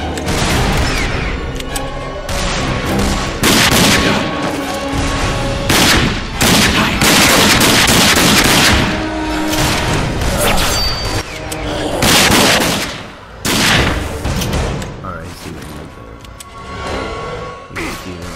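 Dense video-game gunfire from Rage: rapid automatic bursts, single heavy shots and booming impacts repeat loudly across the whole stretch, broken by short pauses, while a player shouts now and then.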